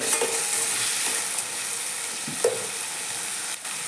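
Vegetables, tomato, onion and green chillies, fry in overheated oil in a pan, a steady close hiss with a few faint clinks from the utensil.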